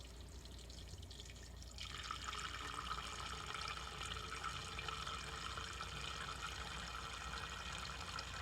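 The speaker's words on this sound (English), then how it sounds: "So you can see the canister starting to fill up with water now." Lukewarm water pours into a rock tumbler canister used for cleaning dug-up old bottles, a steady broadband rush that begins abruptly after a quiet start and keeps running evenly at close range.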